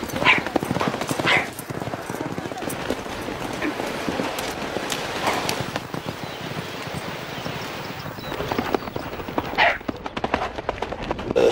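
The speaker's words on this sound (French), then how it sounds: "C'est un cheval qui est très maniable, très adroit, très habile, très agile et surtout intelligent." A Barb horse's hooves clip-clop in a loose, uneven rhythm at moderate distance, with a few sharper knocks scattered through the steady outdoor background.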